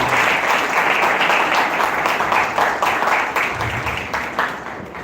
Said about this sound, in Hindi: तो जोरदार तालियां एक बार फिर से